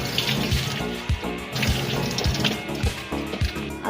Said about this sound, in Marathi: कोलंबी सोलून झाल्यावर आता ती स्वच्छ धुवून घेतली.